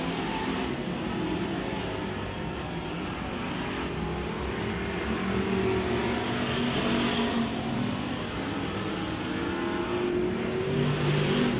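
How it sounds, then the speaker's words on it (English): USRA factory stock cars race around a speedway in a steady, continuous engine roar, loud and unbroken as the pack runs laps with revving rising and falling. "Green flag is out. Session number 2 of your USRA factory stocks."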